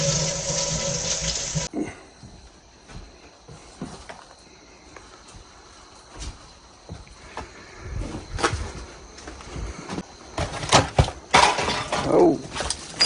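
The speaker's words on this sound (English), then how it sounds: "Sitting on the toilet. Now flush." A toilet being flushed inside an abandoned house in the woods, starting with a loud rushing gush that cuts off, followed by quieter gurgling, trickling and rattling as the tank refills.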